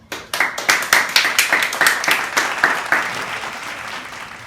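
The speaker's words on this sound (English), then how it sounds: "let's give a round of applause" A morning-show studio audience applauds a guest, with a scattered start quickly building into a lively round of distinct hand claps close by that gradually softens.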